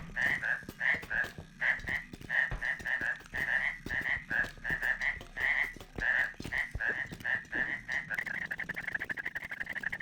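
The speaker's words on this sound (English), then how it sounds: "50 seconds worth of 3 frogs jumping" Three small frog items in the video game R.E.P.O. croak over and over in a quick, irregular rhythm, with thumps and soft clatter from their jumping mixed in. The frogs sound close, and the croaking runs steadily throughout.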